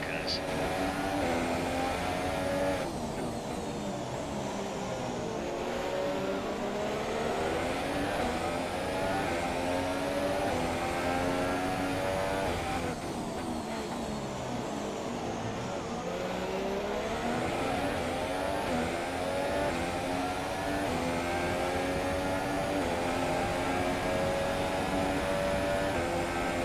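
Race car engine in the F1 2017 video game, a steady, loud high-pitched whine that rises and falls through gear changes across the whole stretch, with no voices over it.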